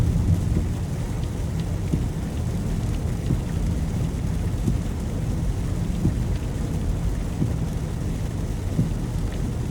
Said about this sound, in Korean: 차 안에서 듣는 빗소리가 또 낭만이 있잖아요.